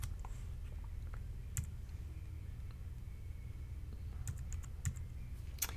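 Typing on a computer keyboard at a desk, soft close key clicks in irregular short bursts over a quiet background hum, with no talking.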